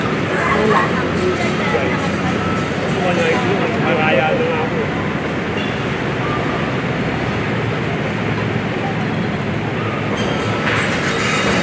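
A train runs right beside homes in a poor Metro Manila neighborhood, a steady loud rumble and rattle filling the whole stretch while people talk over it.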